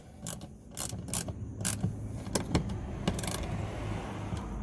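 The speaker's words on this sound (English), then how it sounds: "take the screws and tighten them all the way down" Screws are driven into a plastic license plate bracket on a 2015–2020 Dodge Challenger, a series of close ratcheting clicks and creaks in short bursts, followed by a steadier low hum toward the end.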